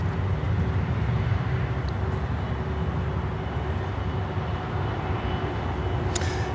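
A DHL Boeing 767 cargo jet taxiing at Miami airport gives off a steady, broad engine roar and rumble that holds at an even level throughout, with no voices.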